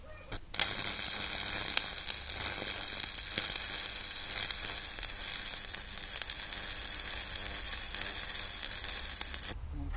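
Arc welding of metal parts for a homemade landscaping tamper, a steady loud crackling sizzle that starts abruptly and runs continuously for about nine seconds before cutting off, with no talking.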